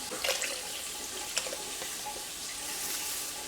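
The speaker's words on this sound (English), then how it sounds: "now I'm going to add just enough water to cover the meat" Water pouring into a pot of meat for Filipino kare kare stew, a continuous close splashing hiss with a few small clinks and knocks, steady throughout with no talking.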